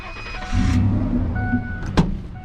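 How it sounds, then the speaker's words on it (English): A pickup truck starts up, its engine catching after a short crank and settling into a steady low rumble, with a sharp click near the end, heard close by. "basically I'm going to start my truck up."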